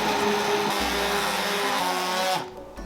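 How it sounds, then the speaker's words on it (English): A stick blender whirs loudly and steadily as it purees a pot of leek and potato soup, then cuts out abruptly near the end. "I'm going to blend it using a stick blender"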